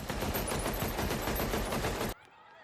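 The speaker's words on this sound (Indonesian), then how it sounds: "Alejandro terlihat berhasil menembak Diaz, yaitu seorang pengacara dari kartel Matamoros" Gunfire from the film Sicario comes as a loud, dense burst of rapid shots lasting about two seconds, then cuts abruptly to near quiet.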